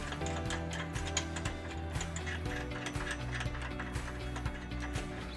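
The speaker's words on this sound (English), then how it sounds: "Now we're going to torque all the bolts to manufacturer specifications." A wrench ratchets as bolts are tightened on a U-Haul trailer hitch being fitted to a 2015 Honda Fit; the clicking runs fast and steady, close up and alone.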